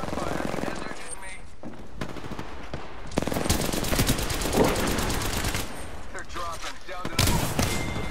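Wingman pistol shots fired in an Apex Legends match: sharp, loud cracks and bursts of gunfire repeating through the scene, mixed with other weapon fire and game effects, while players talk over it.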